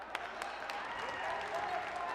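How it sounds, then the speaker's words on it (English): A small crowd applauds in the Mim Gym at a college wrestling dual between NC State and Virginia, steady scattered clapping with murmurs throughout and a commentator talking over it. "you can hear the limited crowd in Mim Gym"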